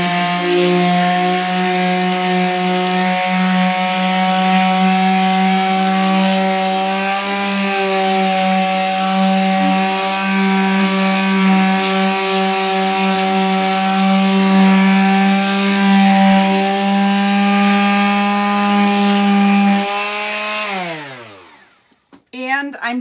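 A power sander works wood with a loud, steady, close buzzing drone, unbroken for about twenty seconds before winding down and stopping.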